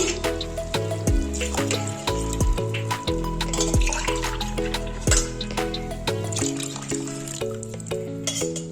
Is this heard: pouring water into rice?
yes